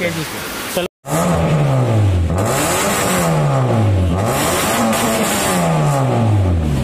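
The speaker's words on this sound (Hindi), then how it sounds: "इसमें स्पोर्ट्स एग्जॉस्ट किट लगा है" A Honda Civic engine revs hard through an aftermarket sports exhaust kit, loud and sporty, pitch climbing and dropping in repeated surges after a brief cut at the start.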